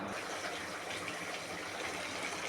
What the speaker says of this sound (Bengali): জল ঢালবো এই যে জল দিয়েছি